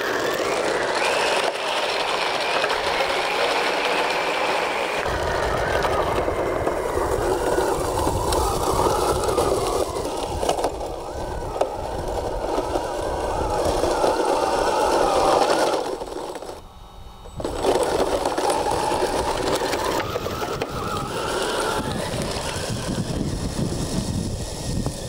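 A small electric motor whines and grinds steadily as a 3D printed 1/12 scale radio-controlled tracked dump truck crawls over hard, crusty icy snow, the drive noise close and continuous with one short dip in power.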